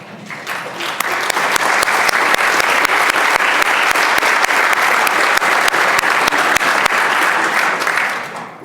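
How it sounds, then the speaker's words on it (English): A full House chamber at the Virginia Capitol gives visiting students from Manchester a steady, loud round of applause, dense clapping that swells at once, holds for about eight seconds and then tapers off, with no talking over it. "I hope the House will give them a warm round of applause"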